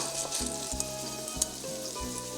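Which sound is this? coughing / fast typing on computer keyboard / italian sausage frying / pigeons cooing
italian sausage frying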